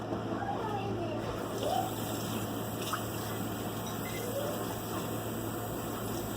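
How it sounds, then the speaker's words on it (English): Water runs and splashes into a cast iron skillet being rinsed at a sink, a quiet steady trickle with faint sloshing and small clinks, low in level throughout. "let me dump this out and give it a rinse."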